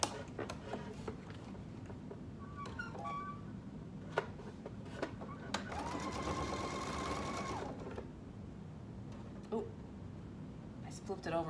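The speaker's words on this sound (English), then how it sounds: "because it's flat, I can sew right over it" A sewing machine stitches over a flat section of fabric while a market bag is sewn, with short bursts of motor whirring and one longer steady run in the middle, close and clear amid light handling clicks.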